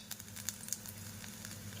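Garlic and ginger sizzle in hot oil, a steady soft crackle with brief louder pops near the start, close and alone with no talk.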